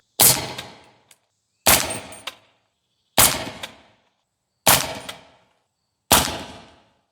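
A suppressed rifle with a 10.5-inch PSA upper fires 220-grain subsonic rounds: five sharp, muffled shots at a slow, even pace, each followed by a brief fading tail and a faint metallic clink, with silence between shots.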